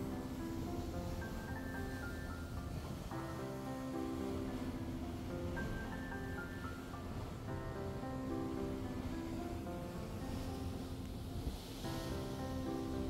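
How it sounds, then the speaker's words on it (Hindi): Strong wind blows over a large dam, a continuous roaring rush of air buffeting the microphone at steady loudness, with no talking over it. "तो गाइस इधर पे बहुत हवाएं चल रही है"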